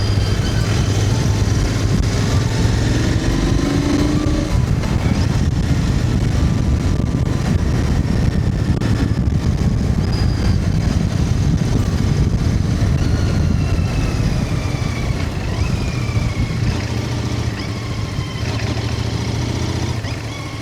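A Triumph Soltana motorcycle on fresh Michelin Classic Road tyres rides along a road, its engine droning steadily and loudly with constant wind rush throughout, no voices.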